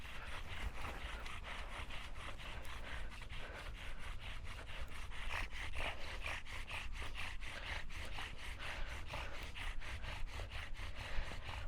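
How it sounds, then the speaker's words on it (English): A bow drill sawing back and forth against wood in a friction fire set, with rapid rhythmic rasping strokes that run steadily and close, alone without talk. "Longer strokes on my bow drill."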